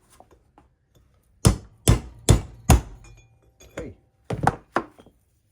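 A steel socket extension serves as a punch, hammered to drive a wheel bearing race out of a trailer hub: four sharp metallic strikes in steady rhythm, then a pause and two or three more close, loud blows, with a brief spoken word.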